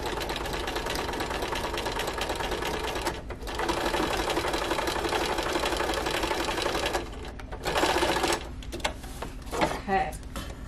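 A sewing machine backstitches the seam of a bench or ottoman slipcover with a close, fast, steady mechanical whirr, briefly pausing and restarting, then a few clicks and handling sounds at the end.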